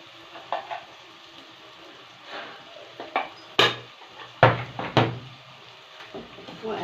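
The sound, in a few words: stirring rice with spices in a pan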